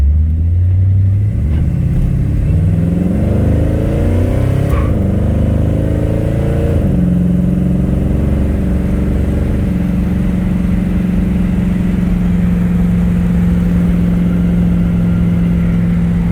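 A freshly restored 1956 Chevrolet two-door post car engine runs steadily while driving, its note rising as it accelerates then settling into a constant drone, close and continuous throughout.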